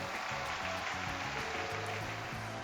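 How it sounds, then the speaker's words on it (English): Applause from an audience at a contest on stage in the video game Trails to Azure, a steady wash of clapping held at an even level over quiet background music, with no voices. "Let's have a big round of applause for our lovely ladies on stage."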